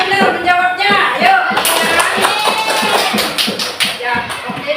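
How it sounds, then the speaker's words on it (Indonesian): Pupils in a classroom clap for a group that answered correctly, a close, rhythmic run of hand claps and taps, with voices mixed in. "Tepuk tangan buat kelompok 1 yang sangat benar menjawabnya."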